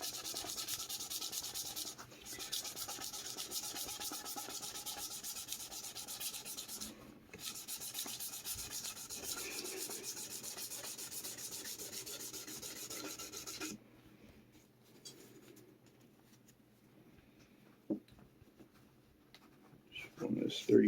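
A Telecaster guitar part is rubbed with 2400-grit sandpaper in a steady rasping scrub for most of the stretch, close and continuous, then falls quiet apart from a few faint handling knocks.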